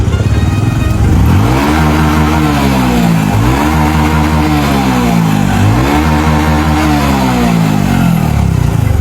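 A motorcycle engine with modified airflow revs hard three times in a row, each rise climbing and falling back over a loud rough idle, close to the listener and continuous throughout.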